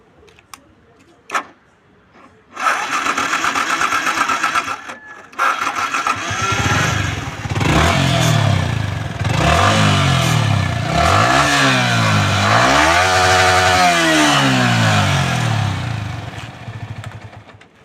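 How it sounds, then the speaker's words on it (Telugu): Yamaha R15 V3 motorcycle engine starting after a few seconds of quiet, then idling and revving up repeatedly in rising and falling sweeps, loud and close with no talk. "ఇంజన్ సౌండ్ అయితే వినేశారు కదా"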